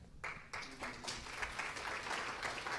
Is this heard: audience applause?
yes